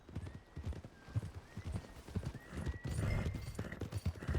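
Horse hooves clip-clop at a walking pace across ground in the Red Dead Redemption 2 game, steady and fairly close, with a faint neigh and low background ambience.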